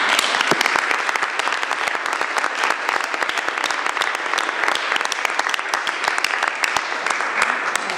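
A county board meeting audience applauds two village presidents, a dense, steady clapping from many hands lasting the whole stretch, fairly close and loud.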